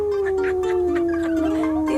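A person imitates a wolf howl, one long sliding wail that falls gradually in pitch and holds steady and fairly loud for the whole stretch, with no other voices around it.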